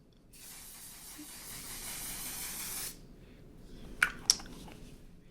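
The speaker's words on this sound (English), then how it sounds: "we're going to use the One Size setting spray" One Size setting spray hisses as a fine mist steadily for a few seconds, then stops, followed by two faint clicks of the bottle.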